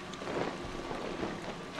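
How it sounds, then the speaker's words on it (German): Rain falls in the horror game Outlast as a steady, soft, dense hiss with no pauses, faint and evenly spread across the short stretch. "Jetzt regnet das"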